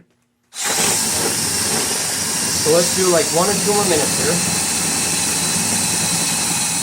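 A cordless drill whirs steadily and loudly up close, its pitch wavering as it churns thick, mushy paper pulp, while someone talks briefly over it.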